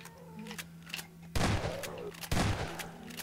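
Two loud, sharp gunshots ring out about a second apart from a weapon in Half-Life 2, each with a brief echoing tail over a quiet game backdrop.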